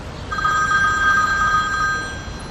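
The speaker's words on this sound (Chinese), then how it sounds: "佳慧，对不起，我接个电话" An indoor telephone bell rings in one continuous electronic tone lasting about two seconds, loud and close, with no talk over it.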